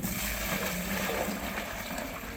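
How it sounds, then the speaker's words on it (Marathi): Water is poured from a bucket into a container while making jeevamrut, a full, rushing pour that runs steadily through the clip, close by and without talk. "पूर्ण पाणी ओत"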